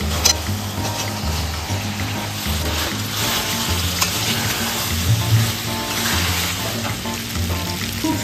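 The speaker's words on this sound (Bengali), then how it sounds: "এবার চিকেনটা মিশিয়ে দিচ্ছি।" Chicken stirred into spice masala that is frying in a pan for honey chicken, giving a loud, steady, close sizzle with scraping stirring movements throughout. No talking.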